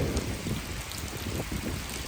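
Heavy rain pours down in a steady, dense hiss that stays constant for a couple of seconds, with no voices over it.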